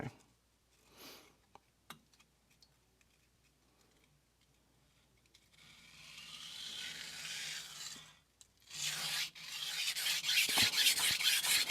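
A 165mm Tsunehisa knife is drawn across a Cheefarcuut 1000 grit sintered vitrified whetstone, making close, dry rasping strokes that are quiet and sparse at first, then turn into longer, louder gritty scrapes toward the end.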